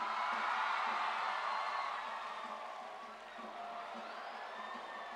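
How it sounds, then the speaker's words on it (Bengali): A large audience applauds loudly at a government event in Dakshin Dinajpur marking project inaugurations and foundation stones, a steady dense wash of clapping that eases slightly toward the end. "হ্যাঁ এইবার ব্যাস একবার জোরে হাততালি।"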